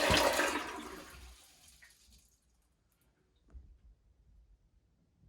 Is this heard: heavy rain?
no